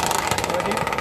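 A powerful lawnmower engine drives a remote-controlled longtail boat, giving a loud, fast, buzzing drone with rapid pulsing, mixed with voices.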